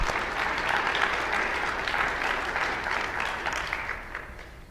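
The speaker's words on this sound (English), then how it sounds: "Give her a round of applause." Steady audience applause at a graduation ceremony, a dense, even wash of many hands clapping that holds for several seconds and eases slightly toward the end.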